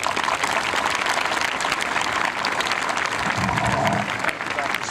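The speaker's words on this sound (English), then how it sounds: "Let's give him a round of applause." Audience applause for the school superintendent at the Sleepy Hollow High School 2017 commencement, a dense crowd clapping steadily throughout with some cheering mixed in.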